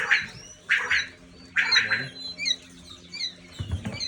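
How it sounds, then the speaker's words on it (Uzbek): Young Italian-breed poultry chicks at a sale call out in a series of repeated sharp, high chirps and squawks, fairly close and loud, with no talk. "jo'jalarimiz sayrab boshladi."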